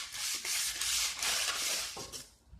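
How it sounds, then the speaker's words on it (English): Metal electrical conduit being sanded by hand with 60 grit sandpaper, a loud steady back-and-forth rasping in repeated strokes, close up with no talking. "Now to sand this conduit, I'm using 60 grit sandpaper"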